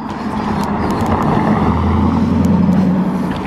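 A Jaguar car drives past on a street in a nice part of town, its engine a close, steady low rumble that swells slightly and holds throughout, with no voices.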